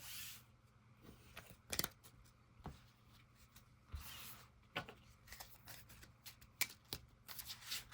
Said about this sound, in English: We're going to shuffle up and deal.